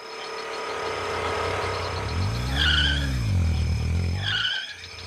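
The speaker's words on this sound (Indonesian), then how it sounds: "Suara motor, Pan?" A motorbike engine drones steadily nearby, revving up and then easing off, with a faint chirping squeal above it.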